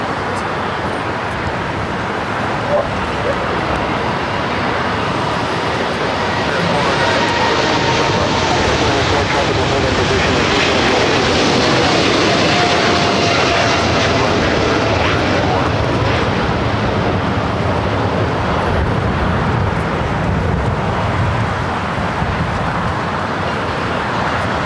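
A Lufthansa Boeing 747 takes off down runway 25 left at LAX, its engines building into a loud, sustained roar that swells toward the middle and holds steady for over twenty seconds.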